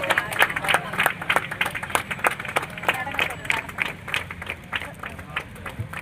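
Applause from an audience at the inauguration of RCM Wonderworld Prime in South India, steady clapping running throughout with sharp hand-claps near the front, mixed with crowd murmur.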